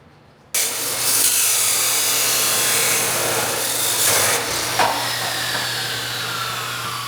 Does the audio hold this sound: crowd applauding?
no